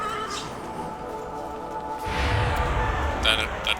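Horses whinny and neigh in Shin Megami Tensei V over a background hum, with a louder rumble joining midway and voices talking.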